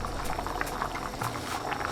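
Rice simmering in water in a covered pot, a steady close bubbling boil with dense, irregular pops and gurgles throughout.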